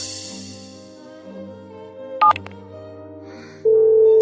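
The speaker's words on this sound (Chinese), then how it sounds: "我马上给我爸打电话" A few quick keypad tones beep in a short burst, then a steady electronic tone comes on and holds, over faint background music.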